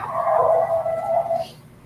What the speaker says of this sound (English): This is one of the 4 howls that I caught close to the house.